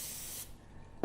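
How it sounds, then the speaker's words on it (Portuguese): Contact cleaner aerosol sprayed onto a computer memory module removed from a PC: a steady close hiss for about half a second, then a short fainter tail and a brief louder puff at the end. "Passo o spray"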